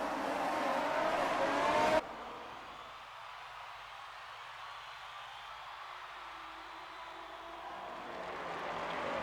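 F1 race cars on a formation lap in an F1 esports video game at the Hungarian Grand Prix. A loud engine roar cuts off abruptly, and a faint, steady car drone carries on afterward.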